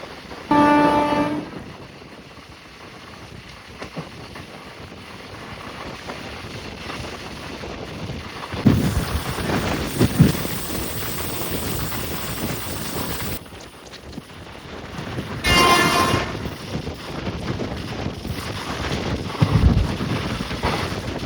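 The Kuvempu Express runs at speed toward Hassan and Mysuru, a steady rumble of wheels and wind buffeting the microphone, with short horn blasts near the start and again later.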